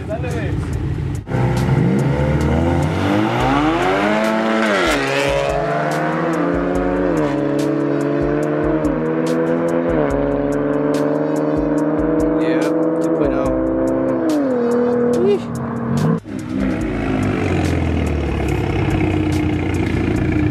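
On a cold night, a 3.7L Mustang street races an Infiniti. Loud, close engines rev and accelerate hard, their pitch climbing and dropping through repeated gear shifts with brief pauses between pulls.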